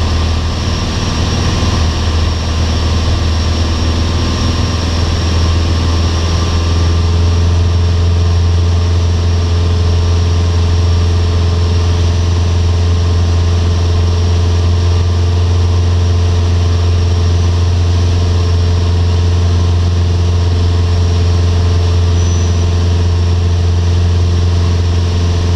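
Light aircraft N5145W taxiing on an airfield, its engine idling in a loud, close, steady low drone with a constant propeller hum that never changes pitch over the whole stretch.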